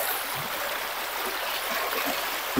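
Steady broadband rush of river water flowing continuously near the microphone, with faint low gurgles and a small splash near the end, no voices.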